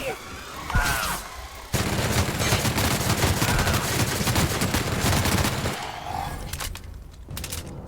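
Sustained rapid gunfire from a powerful weapon in the sci-fi shooter The Outer Worlds, a dense loud burst of shots lasting several seconds with a few quieter shots before and after.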